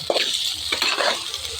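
Food sautéing and being stirred in a pan for a Bengali home-cooked dish, with close scraping strokes and a steady sizzle in the background.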